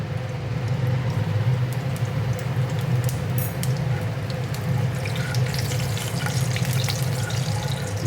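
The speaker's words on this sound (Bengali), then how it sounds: "আর গোটা জিরে ফোড়ন দিচ্ছি।" A dried chili and whole cumin seeds frying in hot oil, a steady soft sizzle with a low hum beneath and a brighter crackle late on, close and alone.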